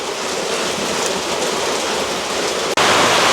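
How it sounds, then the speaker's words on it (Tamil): Heavy rain pours down in a village in a steady, dense hiss, loud and continuous, with a brief break near the end before resuming. "பயங்கர மழை பெய்து கொண்டிருக்கேன். சரியான மழை பெய்யும்"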